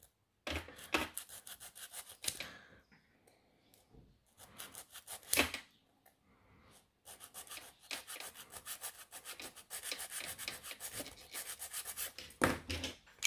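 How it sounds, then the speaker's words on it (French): A hand file rasps against a workpiece from underneath in repeated close strokes, coming in bursts of rhythmic scraping separated by short quiet pauses. "je vais limer par en dessous"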